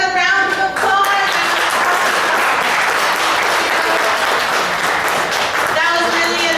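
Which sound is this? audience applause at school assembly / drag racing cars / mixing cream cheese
audience applause at school assembly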